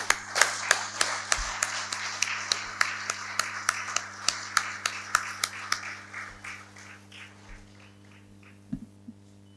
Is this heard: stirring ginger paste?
no